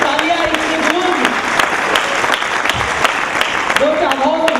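A large crowd claps and cheers steadily and loudly, with a voice calling out over the applause.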